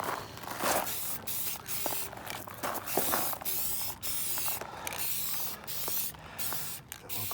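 A rear bash bar getting its second coat of spray paint: a steady close hiss of aerosol spray, broken by frequent brief pauses between passes, with faint mechanical rattles underneath.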